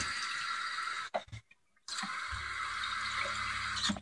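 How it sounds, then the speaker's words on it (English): Freshwater pump on a Hunter 31 sailboat running after a new bath sink is plumbed in, a steady mechanical whir with a brief break and a low hum that settles in partway through. "you probably even heard the pump just kick in"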